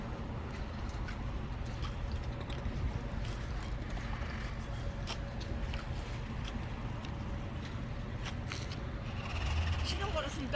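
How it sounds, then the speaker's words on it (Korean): A fishing boat's engine, just started by the captain at a seaside fishing village harbour, runs as a steady low rumble that fills the whole stretch, with faint clatter and splashing over it. "배에 시동을 걸었으니까 배가 금방 떠날 거예요"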